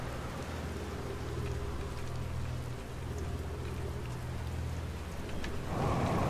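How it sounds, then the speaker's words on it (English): Hail pelting down in the video game Outer Wilds: a steady, dense patter and hiss that stays even throughout, with a low rumble underneath and no voices. "I think it's hailing again."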